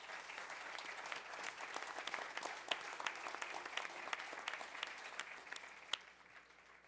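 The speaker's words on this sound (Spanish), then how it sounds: "Un fuerte aplauso para nuestros panelistas." Audience applauding conference panelists at the end of a session, a crowd of distinct individual claps at moderate distance that rises and then thins out, stopping abruptly near the close.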